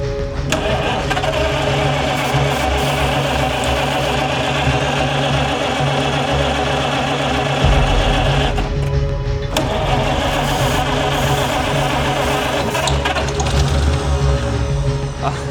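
A 100-year-old car's engine cranks, catches and keeps running with a loud, steady mechanical chug and a rough idle rhythm, close by and alone.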